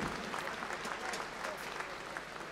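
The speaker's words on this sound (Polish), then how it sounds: "wielkie brawa" Crowd applause at an Iron Fist kickboxing event as a fighter from Thai Box Torino is introduced: quiet, dense clapping throughout, with an announcer's voice over it.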